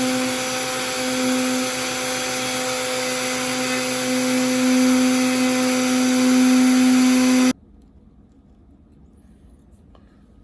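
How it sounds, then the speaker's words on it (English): An upside-down palm sander smooths a small wooden Christmas craft piece, giving a steady, loud, close whine that runs for several seconds and then cuts off abruptly, leaving near silence. "you can take your palm sander, and I've just turned mine upside down"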